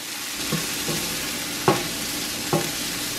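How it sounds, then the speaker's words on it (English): Onions and garlic frying in a pan: a low, steady sizzle broken by several sharp clinks and scrapes of a utensil stirring, close and moderately loud, with no talk. "we're just going to cook this until the onions are clear and they're nice and soft"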